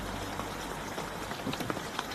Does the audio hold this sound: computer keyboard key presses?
no